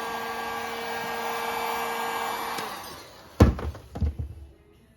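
Steady blowing whir of a heat gun warming stiff tubing on a Vevor airbag jack, cutting off partway through, followed by a couple of sharp knocks and clatters of handling nearby.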